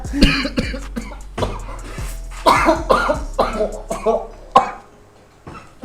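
Repeated rough coughing fits, several hacking bursts in a row close to the listener, with short pauses between them.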